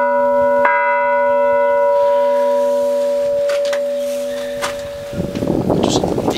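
A single strike of a small church bell rings out clearly and hums on, its tone slowly fading as faint background noise rises at the end.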